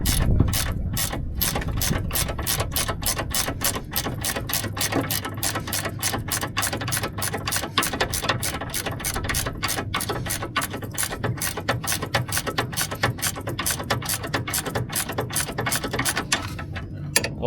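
A hand ratchet clicks in rapid, steady bursts of sharp pawl ticks, close and clear, as a bolt is tightened during a car repair, continuing for many seconds with little else around it.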